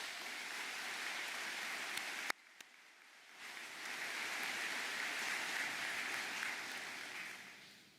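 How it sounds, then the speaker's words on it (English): Audience applause at a university medal ceremony honouring science and health students: sustained clapping, briefly dipping for about a second midway, then swelling back up and continuing steadily near the end. "Please give Sarah a round of applause."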